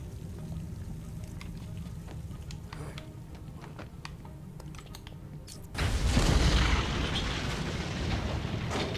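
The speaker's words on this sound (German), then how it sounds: "Mit einer kontrollierten Explosion." A controlled explosion in the video game Batman: Arkham Asylum, a sudden loud blast partway through that cuts over quieter game ambience and clicking, then leaves a lingering rumble.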